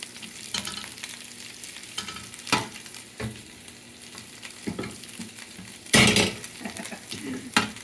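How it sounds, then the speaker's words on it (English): Shrimp stirred in hot oil in a pan give a low sizzle under repeated scraping and clattering strokes of a utensil, with a loud burst of spitting and clanking partway through, no voices. "I'll stir it around with the oil, so hopefully everything is touching."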